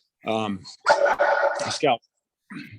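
A pet dog gives a short bark or yip close by, following a spoken word, with a faint whimper trailing after it.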